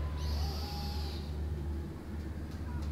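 An owl in the Far Cry Primal game gives a faint, tonal hooting call early on over a low steady background rumble, fading out after about a second.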